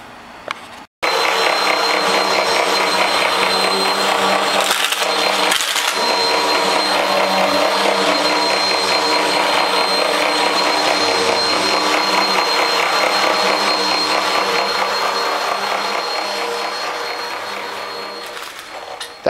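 A vacuum cleaner with a glued and sewn repaired belt starts up after a brief click and runs with a loud, steady whirring roar for about eighteen seconds, easing slightly toward the end, with no talking.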